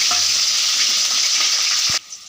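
Finely chopped green chillies frying in hot oil for an egg rice dish, giving a loud, dense, continuous sizzle up close that cuts off abruptly near the end, no voices.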